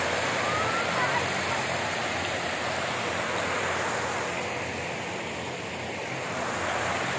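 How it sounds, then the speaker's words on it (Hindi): Water cascading and foaming down a channel at Nishat Garden in Srinagar, a loud continuous rushing roar close by with no pauses. "ये देखिए पानी यहाँ पे नीचे जा रहा है, सुंदर दृश्य, झाग बनाता हुआ कलकल करता हुआ"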